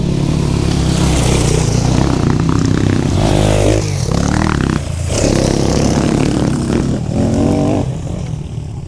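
A rally of many motorcycles passes close by, a loud continuous engine roar with revving swells and rattling, steady for several seconds before easing slightly toward the end.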